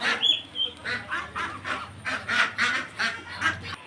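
Ducks on a small farm in Bangladesh are fed in the afternoon. Nearby, they quack in a busy, rhythmic chorus, with short calls repeating every fraction of a second and no one talking over them.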